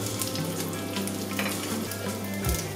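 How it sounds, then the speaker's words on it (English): Gyoza dumplings fry in a hot pan with a steady, dense sizzle and crackle throughout, close and fairly loud, with occasional small bumps and no voices. "Once you've got it sizzling"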